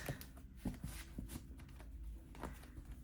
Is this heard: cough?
no